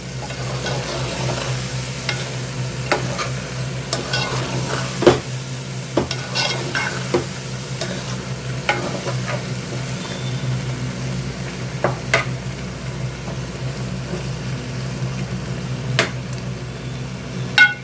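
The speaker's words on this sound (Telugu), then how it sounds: "ఇప్పుడు కారం వేసేద్దామండి కారం వేసి బాగా కలుపుదాం" A spoon steadily stirs dry fish tomato curry with chili powder in a hot pan, giving a continuous close sizzle and frying hiss broken by scraping strokes and occasional sharp clinks against the metal.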